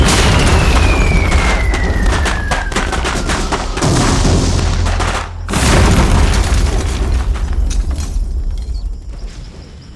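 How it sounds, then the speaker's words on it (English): Several high-explosive artillery rounds hit a hedgerow in quick succession. Heavy booms and crackling blasts pile into a loud, continuous barrage, with a brief lull midway before it resumes and then tapers off. "Within 30 seconds, 6 rounds of high explosives hit the deck."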